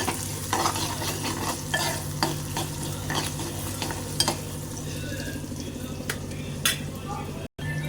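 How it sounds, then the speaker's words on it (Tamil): Onions and garlic sautéing in oil with salt, a steady low sizzle of frying beneath repeated scraping stir strokes of a utensil against the pan, close and continuous with no talk. "உப்பு சேர்த்துட்டு இன்னும் கொஞ்சம் நல்லா வதக்கி விட்டுக்கலாம்"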